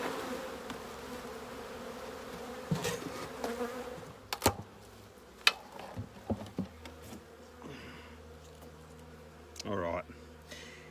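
Honey bees drone steadily around frames from a ten-frame Paradise Honey Bee hive box during an Aussie jellybush honey harvest, a continuous nearby buzz broken by handling knocks, clicks and rustles, with someone speaking briefly.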